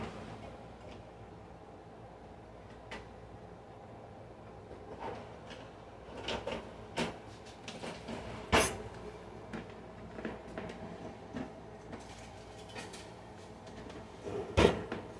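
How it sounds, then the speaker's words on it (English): A kitchen drawer is opened to take out a plastic spoon while tomatoes are prepared for home canning. Scattered clicks, knocks and rattles stand out over a steady low room hum. "I'm going to get a plastic spoon out of the drawer."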